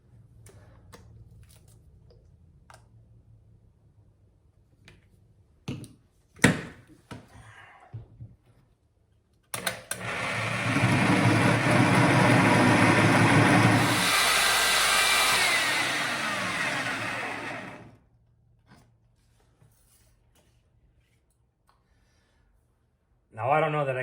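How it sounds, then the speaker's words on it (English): A power tool with a bit grinds steadily through a granite countertop for about eight seconds, loud and continuous, with scattered knocks and handling sounds before and after. "try to cut through this granite without screwing things up"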